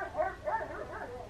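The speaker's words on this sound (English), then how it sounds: "really sorry if you can hear the dogs outside" Dogs bark outside a home, a few short muffled yips heard at a distance and fairly faint, spread over just over a second.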